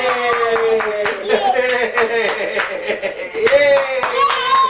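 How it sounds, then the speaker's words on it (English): A group of children claps along in quick bursts of rhythmic hand claps during a family sing-along at home, with excited voices and singing mixed in over the clapping. "If you're happy and you know it, clap your hands."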